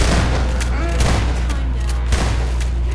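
Rapid gunfire bursts in the video game Half-Life 2, sharp repeated shots crackling in quick succession over a constant low game rumble, with a player's voice faintly mixed in.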